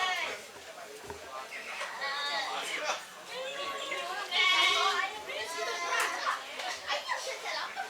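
Goats bleat repeatedly at a nighttime Dashain festival sacrifice ceremony, mixed in with children's voices and crowd chatter, loud and continuous.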